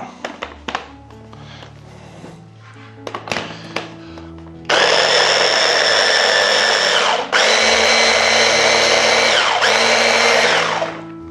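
Kitchen blender mixing kimchi paste of gochugaru chili flakes, sugar and soy sauce: after some clatter and knocks, a loud steady motor whine runs in two long bursts with a brief dip between.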